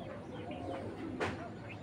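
Pakistani Rampuri pigeons, two females, giving soft low cooing under a faint background hum, with a brief louder rustle partway through, close but quiet.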